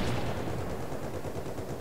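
Tank gunfire in the War Thunder video game, from a B1 ter tank battle: a burst of rapid, overlapping firing booms crowded close together, loud and continuous for the whole stretch with no voice over it.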